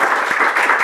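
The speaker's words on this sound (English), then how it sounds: "A round of applause for them and also for Frida." Applause for a panel of education speakers at a teacher professional development seminar: a brief, dense burst of clapping from an audience, steady and fairly loud for under a second.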